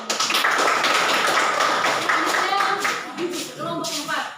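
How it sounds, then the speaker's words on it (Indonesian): Classroom applause for a student group after a presentation on heat transfer, a dense patter of clapping that fades toward the end as voices begin to talk over it. "Oke, tepuk tangan untuk kelompok"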